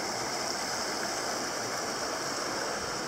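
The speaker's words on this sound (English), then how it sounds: "right beside this creek." Creek water flowing beside a riverbank, a steady, moderately quiet rushing and babbling with no breaks.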